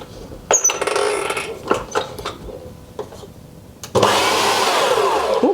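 Electric hand mixer whirring through homemade anti-cellulite cream, starting in short uneven bursts before running steadily and loudly near the end.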